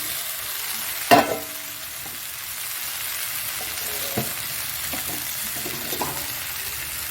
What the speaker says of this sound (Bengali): এবার আমি কাঁকড়াগুলো দিয়ে দিচ্ছি এর মধ্যে দেখো